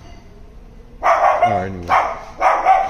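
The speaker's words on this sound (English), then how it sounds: "you have a yard with a dog across the way." A dog barks three times in a neighbouring yard across the way from a house in Philadelphia, loud sharp barks in a steady rhythm after a quiet start, with someone speaking briefly between them.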